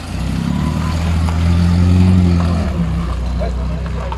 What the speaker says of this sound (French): Il y a une voiture qui arrive, je sais pas du tout ce que c'est, je découvre en même temps que vous, c'est une MGB.